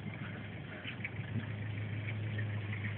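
A car engine idles close by, a steady low hum with a constant rumble running through the whole stretch, loud and unbroken.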